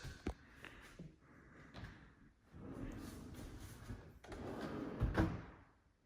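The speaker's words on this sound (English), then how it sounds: "Soft closed cabinets, doors and drawers." Soft-close cabinet doors and drawers in a custom modular lake house close with a series of quiet slides and muffled thumps, several gentle knocks spread across a calm room.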